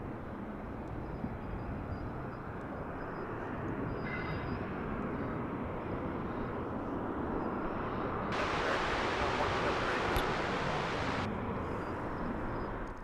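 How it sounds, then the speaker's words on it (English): American Airlines jet taking off from runway 18 Left at DFW International Airport, with a distant, continuous broadband roar that builds gradually and swells louder near the end. "18 left, clear for takeoff, American 1304"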